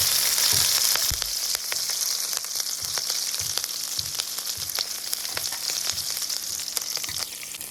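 Garlic cloves and green chilies frying in hot oil, a dense, steady sizzle heard up close and alone, with intermittent soft stirring taps throughout.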